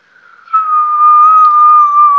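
A person whistles one long, steady, fairly high note that swells in after a brief quiet start and holds loud and close for about two seconds, with no talking over it.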